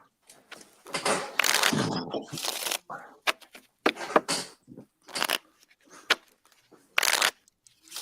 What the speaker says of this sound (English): someone shuffling cards